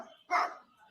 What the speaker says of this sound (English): This thing barks.